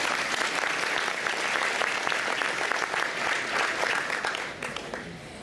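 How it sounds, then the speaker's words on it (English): An audience at a Nepal Night cultural event at Washington State University in Pullman gives a sustained round of applause for a presenter, a dense, even roar of many hands clapping that fades slightly at the end. "Please give a round of applause for Beth Sitaula."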